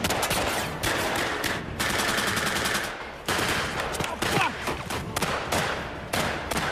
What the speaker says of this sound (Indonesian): kontak senjata yang terjadi menewaskan dua orang tentara Jerman